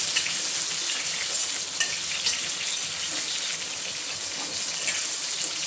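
Potatoes frying in a pan of oil for aloo dum biryani, a dense, bright continuous sizzle like light rain, close and fairly loud, with faint stirring touches and no talking.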